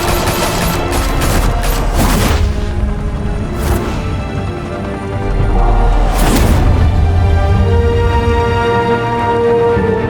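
Loud gunfire in a Batman Telltale Series shootout, with several sharp close bursts of rapid shots separated by short gaps and a low booming rumble beneath.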